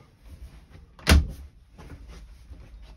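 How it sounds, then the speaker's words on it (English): A caravan door on a Bailey Pamplona, one that never fits properly, is pushed shut with a single loud thud near the middle, then quieter rattles and low background noise follow. "The actual door has never ever closed one way."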